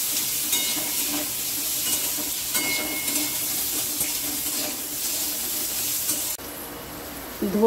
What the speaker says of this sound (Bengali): শুকনো লঙ্কা, জিরে ফোড়ন দিয়ে দিলাম।